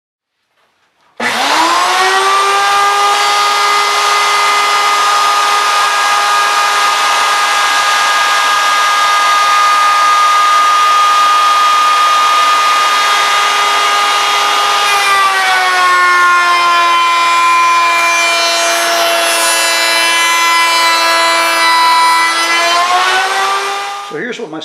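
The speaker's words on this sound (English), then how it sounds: "it's going to go through the router this side up" Router table starting up and spinning steadily while cutting a spline slot in wood: a loud, sustained whine with a shifting pitch partway through, then a faint drop-off at the end.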